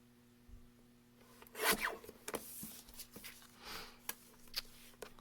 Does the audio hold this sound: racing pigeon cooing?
no